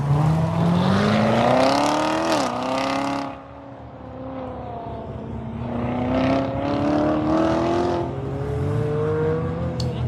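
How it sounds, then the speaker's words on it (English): Honda Civic on an autocross course, its engine revving hard and climbing through gears, dropping off around a turn, then pulling up again, loud and close throughout. "that's Alex Avila in that Honda Civic coming in"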